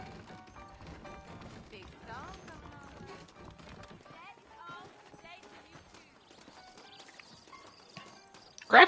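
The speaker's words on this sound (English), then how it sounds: "I got the horses saddled up and ready out front." Video game horse hooves clip-clopping in Red Dead Redemption, soft rhythmic footfalls mixed with faint game ambience and tack rattles, with a sharp louder hit at the very end.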